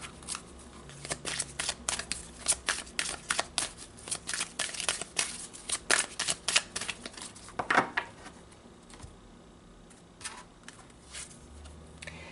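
Tarot cards riffle and shuffle in quick papery bursts, a steady run of crisp flicks and snaps up close, easing off into a few scattered taps near the end.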